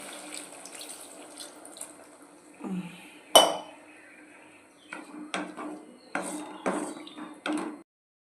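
Water splashes and sizzles into a hot frying pan of prawn fry, with a sharp clink of utensils and short bursts of hissing and spattering.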